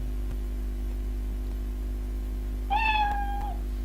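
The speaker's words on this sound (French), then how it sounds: "il va jouer le son miaou" A single clear cat meow sound effect played by a Scratch program rises out of steady hum and static near the end, short and close.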